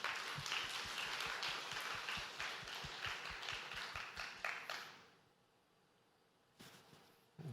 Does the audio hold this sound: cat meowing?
no